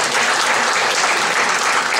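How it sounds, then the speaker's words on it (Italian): A congress audience of a tenants' union in Chianciano Terme gives sustained applause, a loud, even, dense roar of many hands clapping together. "Lo salutiamo con un applauso"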